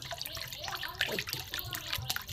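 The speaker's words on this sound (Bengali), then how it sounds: "এটা আমি জল দিয়ে দেবো। একটু বেশি করেই জল দেবো" A generous amount of water is poured into a pan of fried, cooked-down paneer masala, giving a close, splashing, gurgling pour with uneven bursts across the short stretch.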